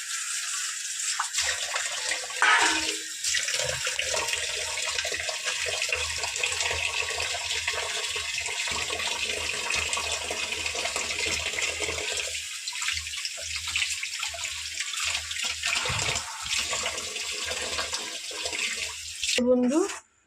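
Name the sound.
tap water washing bottle gourd leaves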